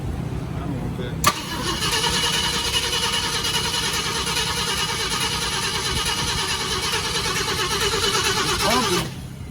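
A classic car engine, refuelled with a small splash of fuel, cranks and fires up, then runs loud and steady at a fast idle for several seconds before cutting off, with voices talking over it.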